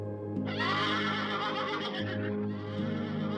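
A Yakutian horse gives a single loud, close whinny that rises, wavers for about two seconds and then fades, with a low steady background hum.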